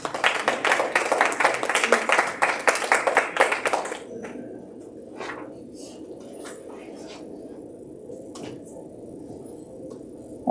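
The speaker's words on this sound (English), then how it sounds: "Let's give a big round of applause." Audience applause at a university arts festival, brisk rhythmic clapping from a small crowd for about four seconds that stops abruptly, followed by quiet room noise with scattered taps and rustles.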